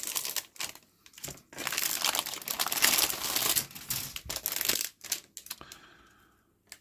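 Crinkling plastic foil wrap around the sprue frames of a Zvezda 5050 URAL-4320 Russian truck model kit, loud close-up rustling and crackling in bursts with brief pauses, alone without talk.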